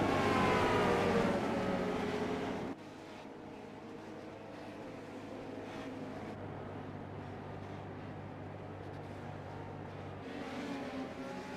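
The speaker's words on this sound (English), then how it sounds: "Few pace laps here around Lanier, and then it is green flag racing." Race cars at Lanier in the iRacing game roar past on pace laps, a loud revving engine sweep at the start fading to a steady distant engine drone.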